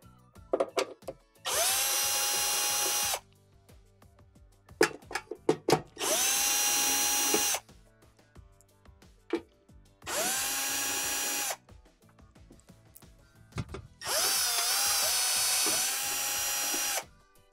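A power drill whirs in four separate bursts of a second or two each, with short pauses and clatter between them, as it backs out the six quarter-inch screws holding the top inner cover of a Whirlpool Swash washer.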